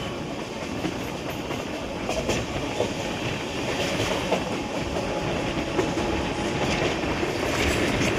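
Tata Nagar–Jammu Tawi Express running on tracks after leaving Aligarh, a continuous close rumble of carriages with rhythmic clickety-clack of wheels over rail joints.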